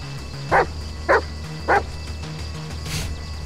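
Dog barks from the video game Die Young: three short, loud barks spaced about half a second apart over a low in-game ambient drone, followed by a softer breathy burst.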